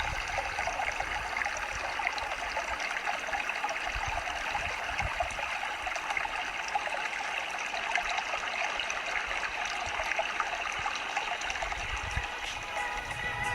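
Oak Creek in Sedona, Arizona flows steadily through red rock country, a continuous bright rushing and trickling of water that stays even and close throughout with no voices.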